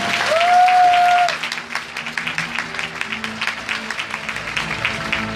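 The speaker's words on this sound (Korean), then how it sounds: "사인해 있을 때 큰 박수 부탁드리겠습니다." Crowd applause at a 2018 Busan welfare rally as a candidate signs a pledge, dense clapping throughout, opening with a brief whistle-like tone before settling into steady, moderately loud applause.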